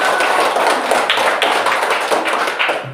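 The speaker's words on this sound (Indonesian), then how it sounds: "tepuk tangan untuk Atom." Applause from an audience at a school academic supervision session, dense overlapping hand claps sustained at steady loudness throughout with no voices over it.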